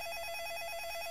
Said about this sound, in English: It's a really loud phone ringing.